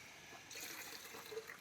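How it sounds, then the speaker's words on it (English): Liquid trickles into a sticky can in a quiet, brief pour that swells after a short pause and runs steadily, with no voices. "Pour it into the can."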